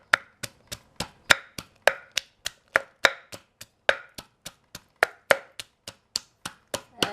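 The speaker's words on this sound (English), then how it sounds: "we will pound the garlic in the mortar" Garlic being pounded in a mortar for Thai som tum papaya salad, a steady run of about thirty sharp, close thuds at a brisk even rhythm, alone with no talk.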